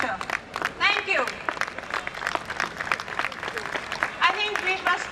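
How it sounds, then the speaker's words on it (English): Audience applause at a Pledge event at Delhi Habitat: dense, steady clapping from a crowd throughout, with voices talking and calling out over it. "Big round of applause for him."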